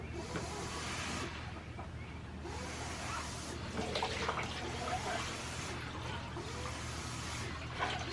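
Water sloshes and splashes faintly inside an overfilled can being carried outdoors at night, a soft irregular watery hiss with a few louder surges over quiet background.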